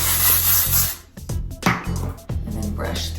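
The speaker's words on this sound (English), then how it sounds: "And then I'm gonna do the same thing where I use texture spray" Texture spray spritzed onto hair, a loud close hissing burst at the start followed by a few shorter sprays separated by brief pauses.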